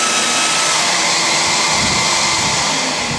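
A belt sander fitted with a fresh 60 grit belt runs close and loud, a constant rushing whir that holds steady throughout.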